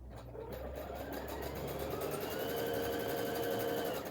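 A Pfaff Expect 350 sewing machine runs steadily at close range, its motor humming with a fast, even stitching patter throughout.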